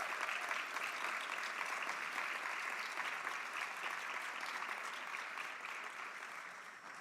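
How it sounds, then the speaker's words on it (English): A university student leadership awards ceremony audience applauds its finalists in a steady, dense round of clapping that holds even for about seven seconds, softening slightly near the end. "Let's give a round of applause to our finalists."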